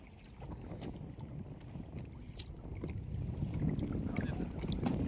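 Steady wind rushing over a river while nets are hauled from a large fishing boat, a broad continuous roar that grows a little louder toward the end, with no clear talking.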